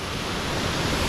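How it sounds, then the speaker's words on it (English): A loud waterfall in the hills of Laos at Phou Hua Lon, a dense, steady roar of rushing water filling the air with no breaks. "It's quite hard to hear me over the deafening sound of that waterfall"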